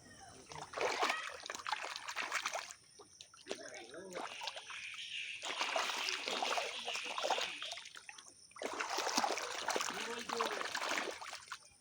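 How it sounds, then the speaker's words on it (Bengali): Water splashes and trickles as feet are washed in a village pond, coming in bursts of close, moderately loud splashing with short quiet pauses between. "সেই জন্য পুকুরে নেমে আগে পাটা ধুয়ে নিই"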